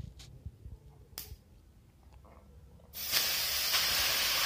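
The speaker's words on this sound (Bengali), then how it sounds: "এই সময়ে আমি এবার গ্রেট করা গাজরটা আমি ঘিয়ের মধ্যে দিয়ে দেবো।" Grated carrot dropped into hot ghee in a pan for gajar ka halwa, setting off a sudden loud, steady sizzle that starts after a few faint clinks and holds to the end.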